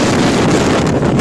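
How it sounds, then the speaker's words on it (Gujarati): Strong, cold wind by a river buffets the microphone in a loud, continuous rumbling roar with no voices. "પવન બહુ છે જોઈ લો જોરદાર ઠંડી લાગે છે જોરદાર"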